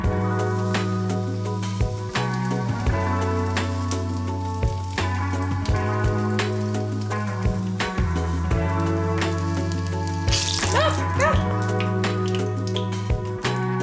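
Backyard weeds dusted in flour and dipped in batter fry in hot oil with a steady, close sizzle and scattered crackles and pops, heard alone with no talk over it.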